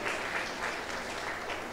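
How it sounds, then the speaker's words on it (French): Steady, dense applause from a graduation ceremony audience, moderately faint and continuous throughout the short clip with no talk over it. "Applaudissez encore une fois notre parrain"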